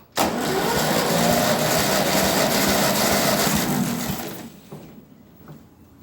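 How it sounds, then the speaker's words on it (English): A Ferguson TEA20 tractor engine cranks over steadily on the starter during a compression test, a loud continuous mechanical churn for about four seconds before it winds down and stops, leaving quiet. "Here we go with our second compression test."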